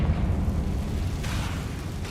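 A Confringo spell explosion from Hogwarts Legacy, a loud, continuous rumbling blast that fills the whole short stretch with dense low-end roar and no voices.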